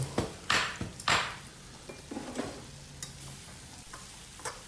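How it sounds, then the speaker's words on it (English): A spoon stirs chicken curry with yogurt in a pan, giving a few scraping strokes over a soft sizzle, then quieter intermittent clinks. "Now mix it well."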